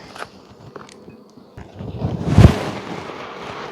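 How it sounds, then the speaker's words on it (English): Honey bees buzz inside a hive during a swarming season inspection, crowding the inner cover and frame tops; a soft, steady hum builds into a louder swell midway, with faint handling knocks and scrapes nearby. "A lot of bees upstairs"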